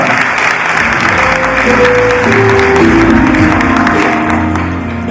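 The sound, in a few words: applause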